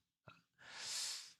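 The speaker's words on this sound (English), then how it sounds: "Sorry for the sniffles." A streamer's close sniffle: one short nasal intake followed by a longer, breathy, hissing sniff through the nose, both brief and near, with no talking.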